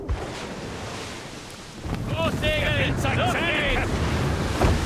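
A sailing ship turns through big waves in Assassin's Creed Rogue, giving a steady rush of wind and water with brief tonal creaks and whistles that swell midway.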